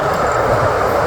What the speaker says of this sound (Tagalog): Itong tren,